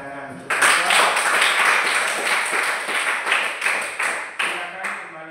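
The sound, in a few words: classroom applause for a teacher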